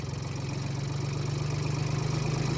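A tractor runs a mini rotavator with its PTO engaged at 1000 speed, giving a steady, close, throbbing engine drone with a fast knocking pulse.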